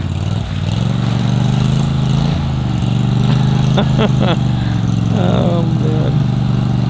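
A Gator Tail mud motor on a duck boat running on a river, a loud, steady low engine drone close by with constant rumble, while someone speaks briefly over it.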